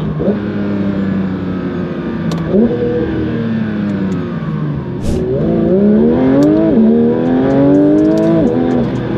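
A Porsche 992 GT3 RS engine revving hard at close range, rising and falling pitch sweeps as the throttle is blipped repeatedly, loud and sustained with no talk over it.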